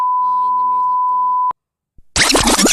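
A steady, loud censor beep from the VidMa video editing app sustains for about a second and a half over muffled speech, then cuts to silence before a burst of harsh noise.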